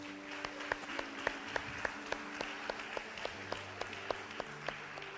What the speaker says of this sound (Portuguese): Vamos dar uma salva de palmas a Deus pela vida do Gabriel, meu povo.